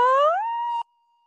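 A human voice imitates a siren as a vocal therapy exercise, gliding upward from a low pitch to a held high tone for under a second before cutting off sharply.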